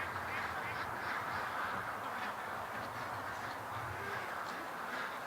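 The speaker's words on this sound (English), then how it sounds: "There come your ducks." Ducks quacking faintly at a distance as they come in from a lake, scattered calls over steady outdoor background noise.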